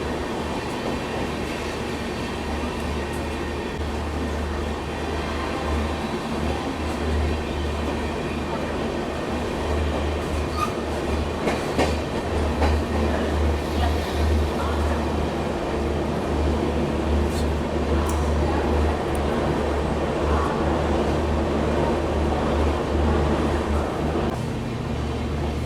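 The Howrah Kalka Netaji Express rushes past on the Indian railway, a loud steady roar of coaches with rhythmic wheel clatter running throughout, heard close up from another train on the line.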